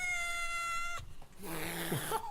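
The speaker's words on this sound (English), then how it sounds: "I've borrowed Fluffy. the boss's cat" A house cat meows a few times close by, with a tonal steady hum beforehand and a short rising cry near the end, fairly loud and alone.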